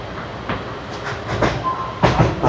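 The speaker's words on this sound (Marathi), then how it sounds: "ट्रेन सुटलेली आहे दादरवरून." A passenger train out of Dadar runs along the Konkan route, a steady rumble with rhythmic clickety-clack wheel beats heard from inside the carriage.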